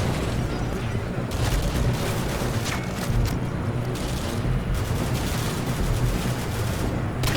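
An M249 machine gun firing in Call of Duty Modern Warfare 2, dense rapid bursts of loud gunfire with booming impacts, continuous and close, with no talking.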